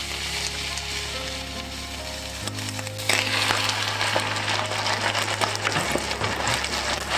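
Korean BBQ sauce and tater tots sizzle steadily in a hot pan, with a stir adding louder crackling partway through. A low hum runs underneath, and no one speaks.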